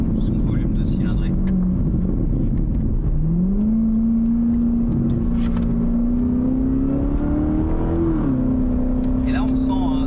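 A supercharged Corvette C7 ZR1 engine drops and rises in pitch as the car decelerates on smooth tarmac, a steady close whine and rumble from inside the cabin, with someone talking over it.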